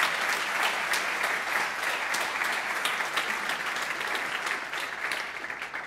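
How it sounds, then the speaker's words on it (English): Sustained audience applause fills an auditorium at a tech conference, a dense, steady wash of clapping from a large crowd that holds at an even loudness for about six seconds with no talk over it. "please give me a big applause to all of these people"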